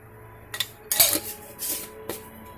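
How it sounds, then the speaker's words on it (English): A spoon stirs homemade cranberry sauce in a pot, with a few close metallic clinks and scrapes against the sides, scattered irregularly over a quiet background. "Give that a stir."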